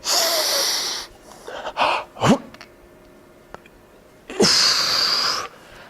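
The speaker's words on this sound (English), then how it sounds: "I hold my breath and breathe out, keeping my mouth closed" Forceful exhales through a closed mouth during weight lifting come as loud, hissing, wheezy breaths in bursts, one long at the start, a few shorter puffs, a quiet pause, then another long push, close to the microphone.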